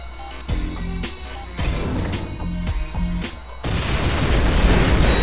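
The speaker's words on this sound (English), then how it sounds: "I'm gonna use an impact mortar to take care of the old Scratch here." Impact mortar blasts in Descent 3 inside a fuel refinery level, several heavy booming crashes landing close together, ending in a sustained rumbling roar, with no talking.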